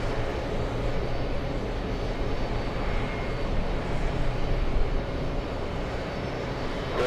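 A JetBlue airliner at JFK airport gives a steady, broad engine roar that holds loud throughout, rising slightly near the middle, with no talk over it.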